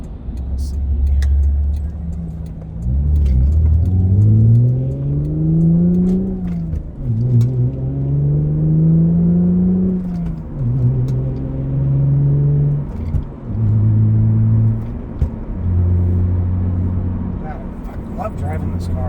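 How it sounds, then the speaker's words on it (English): A V6 Toyota Camry with a five-speed manual revs up through the gears, its engine note rising and falling with each shift, loud and close from inside the cabin. "This has got to be one of the most powerful V6 Toyota Camrys I've ever driven"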